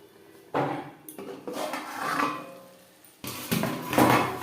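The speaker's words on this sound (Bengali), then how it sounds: "চার পাঁচ মিনিট ঢাকনা চাপা দিয়ে রান্না করব" Metal pot clatter and knocks as a lid is set onto a cooking pan of potatoes simmering over low flame for fish roe chorchori, several close, loud clanks with scraping between them, no talk.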